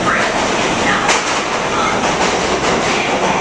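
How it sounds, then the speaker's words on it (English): A subway train pulls into an underground station with a loud, steady rumble and rattling wheels, and a faint squeal rises briefly in the roar. "Here comes the train."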